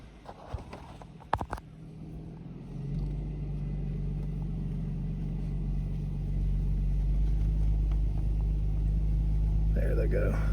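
A car driving along at steady speed, its low engine rumble and road noise building after a few seconds and holding continuous, with a few brief knocks near the start.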